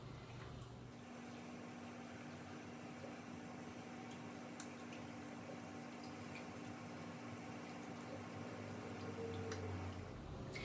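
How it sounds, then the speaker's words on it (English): Water heats toward a boil in a pot on the stove, giving a faint, steady hiss and a low simmering rumble with a soft constant hum behind it. "I can hear that water coming up to a boil."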